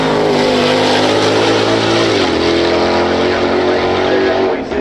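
Loud sustained engine roar from hypercars, including a Gordon Murray T50 and a Pagani Huayra R EVO, pulling away up a hill, the pitch shifting as they accelerate.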